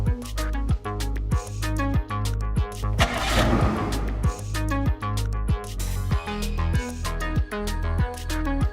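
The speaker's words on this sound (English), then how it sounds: "Repeat the remote engine start function to remotely turn the AC on." A Kia car's engine starts remotely through the Kia Connect app, with a short cranking burst then a running hum, set under a rhythmic music bed with regular beats.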